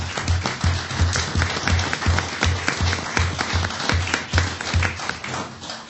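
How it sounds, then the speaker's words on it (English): A round of clapping rises from attendees at a town aldermen meeting to honour a department head, many hands beating together at moderate loudness. "How about joining me with a round of applause for our department head?"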